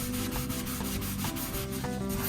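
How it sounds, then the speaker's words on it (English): A sponge scrubs a stainless steel sink in an Airstream trailer, giving a close, steady rhythmic rubbing and swishing of quick back-and-forth strokes with no talking. "I'm just going to give this a little bit of a scrub to start things off."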